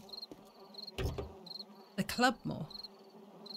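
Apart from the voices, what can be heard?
crickets chirping and flies buzzing in video game 7 Days to Die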